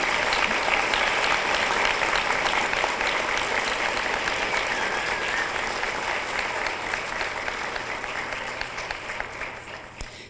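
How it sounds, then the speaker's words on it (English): Luncheon guests applaud the honorees, a full room of steady clapping that runs for several seconds and gradually fades toward the end. "So again, a round of applause for our honorees today."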